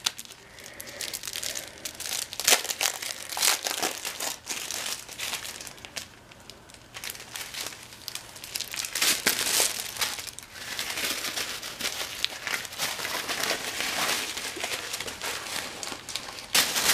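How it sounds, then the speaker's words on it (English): Tissue paper being crumpled and shoved into gift bags, a steady run of crinkling and rustling bursts close by with no talk. "we're gonna finish it off with some pretty tissue paper"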